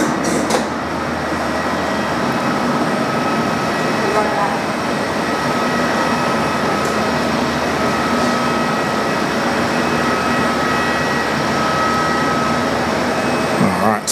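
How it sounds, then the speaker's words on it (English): A Cessna Citation business jet at Perth airport, a steady loud turbine roar with a whining tone that holds for the whole stretch, with a voice talking over it. "it's our Cessna Citation"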